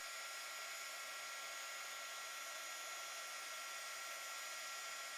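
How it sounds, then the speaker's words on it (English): A heat gun blows steadily while it heats the metal settings of a rhinestone bracelet for soldering. A close, even, airy roar holds unchanged for several seconds and cuts off abruptly at the end. "using the heat gun with a 300-degree solder"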